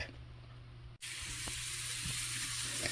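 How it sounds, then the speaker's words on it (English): After a brief pause, a loud steady sizzle fills the air, with occasional small crackles and pops from dandelion roots frying in a pan nearby. "you can hear the crackle and the sizzle"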